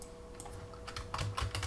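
Typing on a computer keyboard while entering a spreadsheet formula, ending with the return key: a few scattered clicks, then a quick cluster of close, crisp keystrokes and firmer key presses, with no talking.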